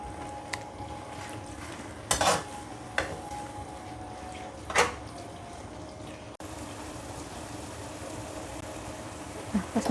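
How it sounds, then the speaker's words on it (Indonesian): Food is stirred in a pan, giving a few scraping clinks of a utensil against metal over a low background hum, fairly faint and sparse. "Kita aduk-aduk ya."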